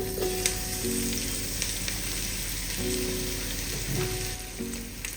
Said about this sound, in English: I start by gently heating some leeks in tallow and then add the spices.